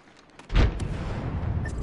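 A frag grenade going off in a video game: one heavy, close boom that hits abruptly and rumbles on as a sustained low roar to the end, no voices.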